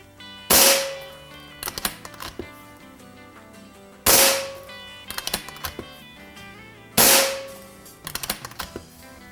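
An Evanix Rainstorm PCP air rifle fires 14.3 grain Crosman Premier pellets, giving three sharp, loud cracks, each followed by a flurry of clicking as the lever is worked to cycle the next pellet.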